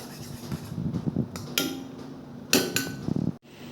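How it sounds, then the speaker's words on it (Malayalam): Raw green mango curry being stirred in a metal pot, with spoon knocks and scrapes against the sides in irregular bursts, fairly close and moderately loud, no talking. "ഇനി ഇത് ഒന്ന് ചെറുതായി ഇളക്കി കൊടുക്കണം"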